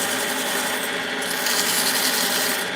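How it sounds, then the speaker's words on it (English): Heavy grit abrasive sanding a ring, a continuous coarse rubbing and rasping that stays close and fairly even throughout. "we want to make sure that we're using a heavy grit when we start initially, and then we polish it down"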